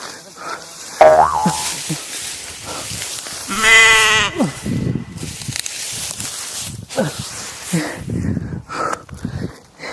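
A goat bleats in a couple of short wavering cries amid a lively rural scene, with people talking loudly over and around the animal's calls.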